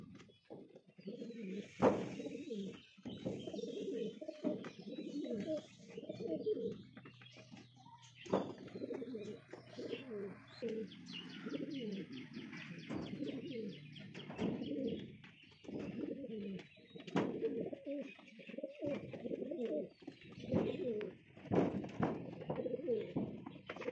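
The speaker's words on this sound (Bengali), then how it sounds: "তো আর সব পায়রা কিন্তু খোপে আছে" Pigeons, including a newly acquired teddy pigeon pair, coo repeatedly in soft rolling phrases close by, with occasional chirps and faint wing flaps, kept in their coops on a rainy day.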